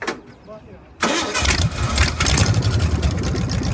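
A car's engine cranks and catches at a casual Sunday morning car meet, then settles into a loud, raspy exhaust rumble close by, with people talking nearby.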